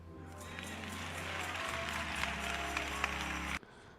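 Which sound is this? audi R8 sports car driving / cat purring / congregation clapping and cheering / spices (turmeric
congregation clapping and cheering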